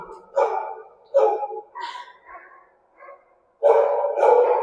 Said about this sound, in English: You can hear my dogs.